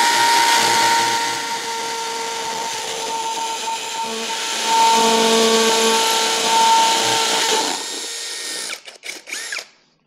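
A TOTAL cordless drill bores into brick wall with a steady high whine that rises as pressure is added, then cuts off and rattles briefly at the end.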